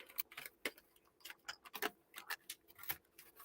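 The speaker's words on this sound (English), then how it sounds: "to keep up with the countdown clock" Steady, fairly quick mechanical ticking, like a clock counting down, continuing evenly throughout.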